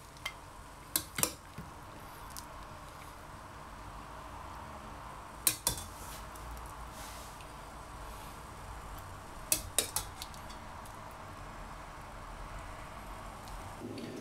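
Kadu barak dumplings are scooped one at a time from a pot onto a plate, making a few sharp metallic clinks and taps in small clusters over a quiet background.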